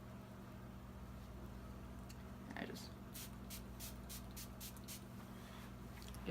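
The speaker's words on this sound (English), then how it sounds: "it's just like a rose water spray" A rose water balancing mist is spritzed in a quick run of about half a dozen short, close bursts over a steady low electrical hum, with no talking.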